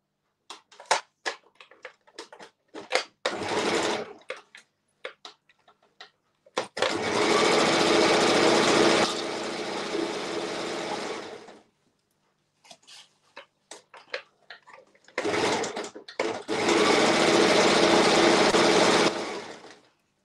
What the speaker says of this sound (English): Because then we have to sew the tunnel for all this now.